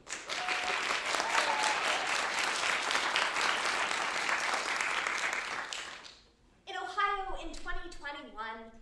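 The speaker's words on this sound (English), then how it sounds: "feel free to give them a round of applause as they switch over" Audience applause at a Santa Rosa Junior College forensics showcase of student speech performances, a full-room clapping roar lasting about six seconds before fading out, after which a single voice begins speaking.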